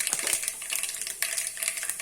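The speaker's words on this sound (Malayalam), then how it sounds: "കടുക് പൊട്ടി തുടങ്ങി" Mustard seeds crackle and pop in hot oil while tempering for a rava or broken-wheat upma, giving quick, sharp ticks scattered across two seconds, close and moderately loud.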